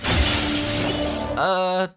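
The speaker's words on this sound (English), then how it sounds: "Regular Spider-Man would have smashed a church window too, right?" A church window shatters in the Spider-Man 2 video game, a loud, dense crash of breaking glass followed by a ringing tonal swell under the game's soundtrack.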